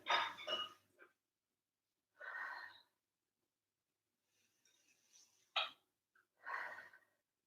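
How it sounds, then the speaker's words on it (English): Slow, deep breaths during a side-stretch pose in a beginners yoga class, ear lowered toward the mat: several soft, airy inhales and exhales with quiet pauses between them, close and fairly faint. "3 nice deep breaths here."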